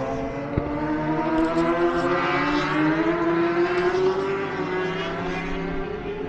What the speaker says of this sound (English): Pesky motorbikes keep getting too loud.